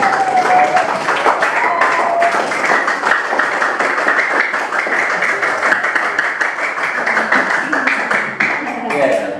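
A classroom of students claps for the groups, a steady dense patter of hands lasting several seconds, with some voices mixed in under the clapping.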